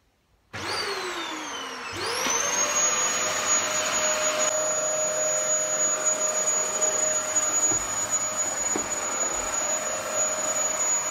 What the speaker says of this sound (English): I've vacuumed right the way through, done the entire downstairs, taken the vacuum cleaner up